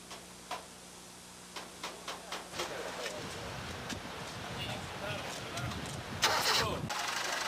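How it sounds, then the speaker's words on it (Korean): A motor vehicle engine being started: a few clicking ticks, then the starter cranking into a rough running engine that grows louder, with people talking around it. "자, 한번 시동 걸어봐."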